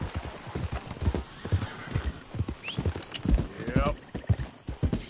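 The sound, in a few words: horse galloping when urged on, from video game Red Dead Redemption 2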